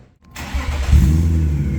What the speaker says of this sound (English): I think it's time to fire it up and see what it sounds like.